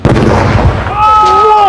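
A sharp, loud Diwali firecracker blast set off beside an LED TV, with crackling bursts, followed by a high whistling tone that lingers after the explosion.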